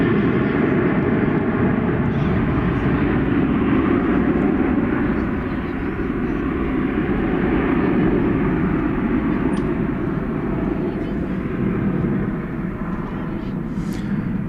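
Airplane taking off at night from DFW Airport, bound for Denver: a steady, loud, broadband jet roar holds level throughout, heard from a plane-spotting spot with no clear talk.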